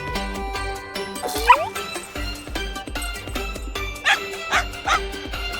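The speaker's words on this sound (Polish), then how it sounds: "Głupiutki piesek." A dog yelps and barks a few times in short bursts in a cartoon, with a high whine at one point, over a busy background of clinking and music-like tones.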